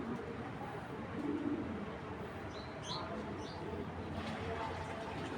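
A Giribaz racing pigeon of silver quality coos softly in a few low, faint calls beneath steady background noise, with a person talking in the background.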